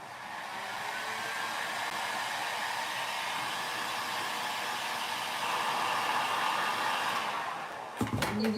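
Heat tool blowing hot air onto the broken ends of a mirror molding, a steady close whooshing drone that holds evenly before cutting off, followed by a few brief clicks and knocks.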